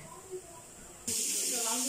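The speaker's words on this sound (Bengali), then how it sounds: "মাছ ভাজতেছি" Fish, a local village catch, goes into hot oil in a home kitchen with a sudden onset. Quiet room tone gives way to a loud, steady, close sizzle that fills the rest of the moment.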